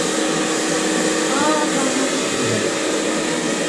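A hair dryer runs close and loud in a home, a steady blowing whoosh that holds without a break for a few seconds, with no speech over it.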